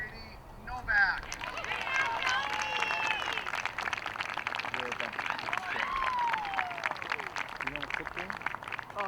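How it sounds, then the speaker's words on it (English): Crowd applause and cheering at a high school softball senior night on the field, a broad steady wash of clapping sustained for several seconds, with a few shouts and voices mixed into the noise. "Let's have a round of applause for Katie Novak."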